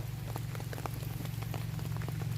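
Rain pattering steadily on a surface outdoors on a Thai farm where termite mushrooms grow, a dense even hiss with scattered drop taps under a low constant hum.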